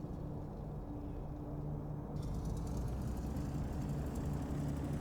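Spitfire Mk IX piston aircraft engine in the DCS flight simulator, a steady droning hum with a thin, tinny edge, running continuously and close throughout without talk.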